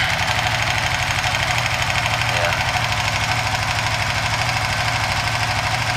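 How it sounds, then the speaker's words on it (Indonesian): A Suzuki FU 150 fuel-injected motorcycle with a bored-up engine starting cold and settling into a steady idle, its rapid even putter close and continuous throughout, with a brief spoken word over it. "Ini saya coba nyalakan dulu"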